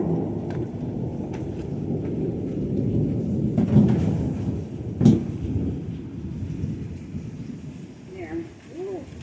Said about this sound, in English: With the thunder.